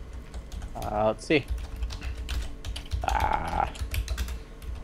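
Quick clicking of keys on a computer keyboard runs throughout, close and steady, with short bursts of talking over it.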